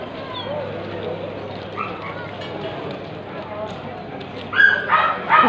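Dogs barking and yelping at the El Harrach dog market, a busy outdoor crowd murmuring throughout, with louder barks near the end.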